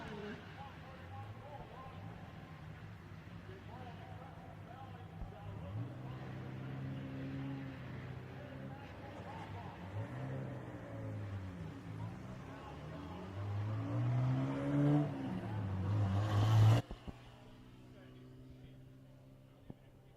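Silver BMW E46 race car on a qualifying lap, its engine droning at a distance under a commentator's voice, swelling louder near the end before cutting off abruptly.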